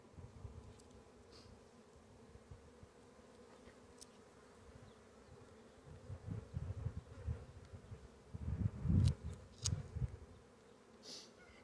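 Honey bees buzzing around an opened hive during a hive inspection with smoke, a low droning hum that swells louder and nearer in the second half, with individual bees passing close.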